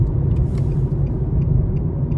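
A 2024 Nissan Versa S accelerates at moderate throttle, heard from inside the cabin as a loud, steady low engine rumble with faint ticking above it and no talk.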